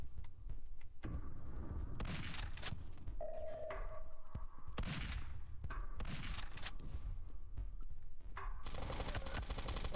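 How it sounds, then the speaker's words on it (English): Rapid bursts of machine-gun fire from an enemy gunner in the 90s-style FPS Zortch, loud and repeated in several volleys, mixed with other game effects, ringing tones and booms, with no talking. "Yeah, that's a gunner. Machine gunner."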